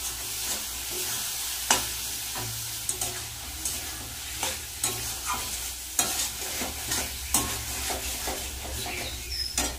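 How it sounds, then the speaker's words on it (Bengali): Ground spice paste frying and being stirred in a pan for a crab curry, a soft steady sizzle with repeated scraping and clattering stir strokes, close and without speech. "ভালো করে মশলাটা কষিয়ে নেব।"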